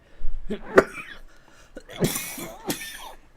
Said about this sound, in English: You're going to be hearing me cough all the way through